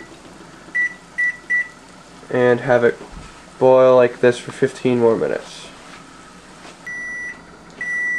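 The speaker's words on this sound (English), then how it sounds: "first you want to shut off that annoying timer" A kitchen timer beeps in short repeated bursts while eggs boil on a stove, with a person talking over the beeps before a final sustained beep.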